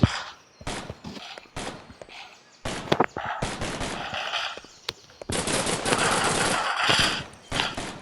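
Bursts of rapid automatic gunfire in a video game, mixed with single sharp shots, loud and close, with brief pauses between volleys.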